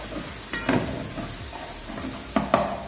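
Ground spices with Arabic masala are stirred in a hot pan for foul medames, a soft steady sizzle broken by a few distinct scraping strokes of the spoon against the pan.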